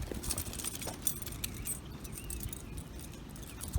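Car keys, from an AT&T fleet car bought at a Copart auction, jangle faintly in a series of light metallic clinks and rattles, close by and quiet, with no talking.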